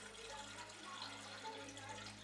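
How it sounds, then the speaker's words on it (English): Water runs into a cooking pot, filled with about a cup for soup, a steady soft hiss of flow from a tap or pitcher with no talk, faint and continuous throughout. "you're going to want to fill it with 1 cup of water"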